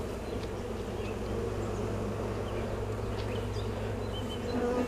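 Honeybees buzz loudly inside a stacked hive box, a dense, continuous drone close to the listener with no voices, holding steady throughout.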